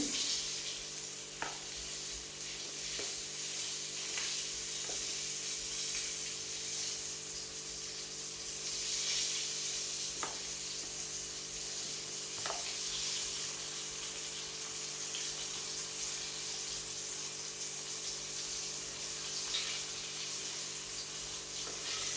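Floured chicken neck pieces frying in hot oil for a Jamaican dish, a steady, fairly quiet sizzle and crackle that runs throughout with occasional faint clicks and no talking.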